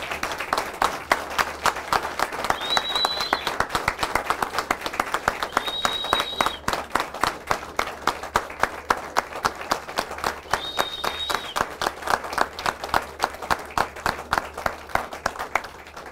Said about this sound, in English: let's give those men and women back there another round of applause